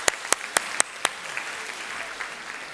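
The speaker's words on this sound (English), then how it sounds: "Big round of applause." A university lecture audience gives a round of applause: a handful of loud, distinct claps up close at the start, then a softer, steady patter of clapping from the room that carries on to the end.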